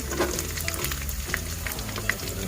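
Chili and carrot with enoki mushrooms sizzle as they are stir-fried in a pan, a close steady crackle with a few light clinks and scrapes.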